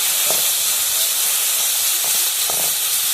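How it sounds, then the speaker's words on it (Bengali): Spice paste with tomato, salt and turmeric sizzles steadily in a pan for a fish and cauliflower curry, a continuous bright hiss with a few faint stirring knocks. "এবার মশলাটা যতক্ষণ না কষা হবে ভালো করে কষবো।"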